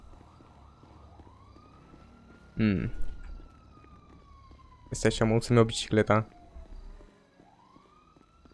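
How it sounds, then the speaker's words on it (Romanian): A police siren in the GTA roleplay game wails steadily in the background with slow rising and falling sweeps, while someone speaks over it in short bursts. "Aud poliția, nu de alta."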